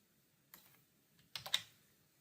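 Short bursts of keystrokes on a computer keyboard, a few quiet clicks and then a quicker cluster of taps, faint and close in an otherwise silent room.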